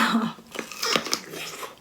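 Close crunchy bites and chewing on raw chili during a meal of spicy Thai papaya salad with chicken feet. Several sharp crunches are followed by softer mastication and breathing.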